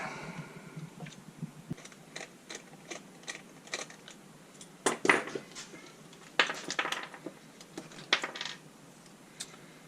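Small 8mm bolts being removed from an Audi B8.5 S4 steering wheel: scattered light metallic clicks and ratcheting ticks, with a few louder clinks midway, close up in a quiet car interior.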